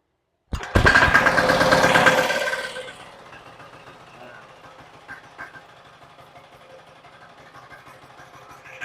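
A Maestro 6.5 HP diesel cultivator engine starts with a loud, sudden roar, then settles after a couple of seconds into a quieter, steady idling putter nearby.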